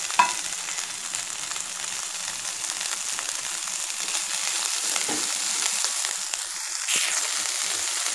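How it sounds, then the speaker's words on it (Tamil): Vatha narayana greens sauté in sesame oil with onions, giving a continuous bright hiss of frying, with a brief clatter at the start and occasional soft stirring sounds. "இப்போ நம்ம உருவி வச்சுருக்க இந்த வாத நாராயண கீரையை இதில் போட்டுக்கலாம்."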